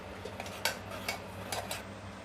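A spoon stirs a paste mixture in a cooking pan, giving a few distinct metallic clinks and scrapes over a quiet background.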